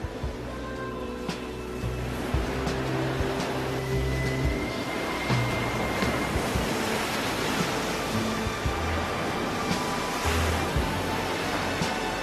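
Atlantic ocean surf breaking along the coast near the Belharra wave, a steady broadband wash of rolling water that holds loud and continuous throughout with no voices.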